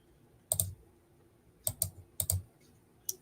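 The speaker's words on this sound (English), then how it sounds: "I still have my loud mouse." Loud computer mouse clicks in four short bursts, mostly quick double clicks, close up and crisp with a brief pause between each burst and no talking.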